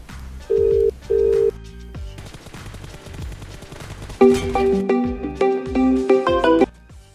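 A telephone rings with two short electronic trills, then a brighter, faster, busier ringtone pattern follows, loud and close, with no talking.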